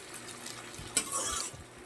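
Onion goes into hot oil in a pan with green chilli, dried chilli and garlic, making a soft, close sizzle stirred with a spoon and one brief scrape or clink near the middle.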